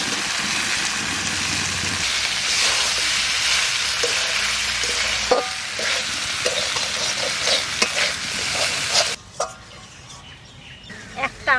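Spice masala for a jackfruit kasundi sizzling and frying in a pan while being stirred, a dense continuous hiss with scraping spoon strokes, close and loud.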